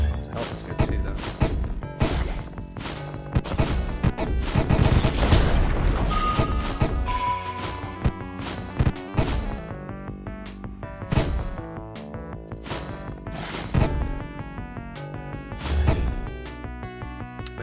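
Rapid gunfire and impact bursts from an ice-based attack in the video game Deathstate, dense and continuous with punchy hits over layered game music and effects, loud throughout.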